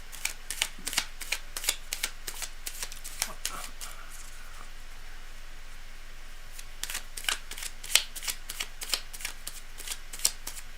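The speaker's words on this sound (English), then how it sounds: "So I'm going to just keep shuffling for a minute" Tarot cards being shuffled by hand during a live reading, giving repeated crisp riffling and snapping bursts in quick irregular clusters, fairly close and alone without talk.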